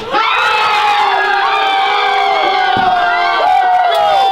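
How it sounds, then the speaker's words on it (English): Crowd cheering loudly and close, an energetic roar of shouting voices with high-pitched yells that holds steady for several seconds and swells again near the end. "Granny, pump up the crowd"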